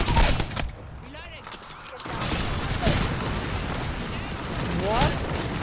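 Gunfire in the video game Apex Legends: bursts and rapid shots crackle loudly in a busy game mix, with a heavy blast near the start and more volleys later, and voices talking over it.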